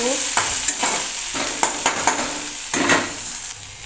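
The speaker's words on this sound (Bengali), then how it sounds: "পেঁয়াজ কুচিটা দিয়ে দিয়েছি এবার অল্প নাড়ব" Chopped onion with dried red chilli and whole cumin stirred in a hot pan, spatula strokes scraping at a steady rhythm over a loud, close sizzle, with no voices.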